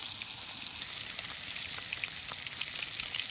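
Katla fish fries in a pan with a continuous crackling sizzle, dense popping like rain on a surface, moderately loud and steady with no voices.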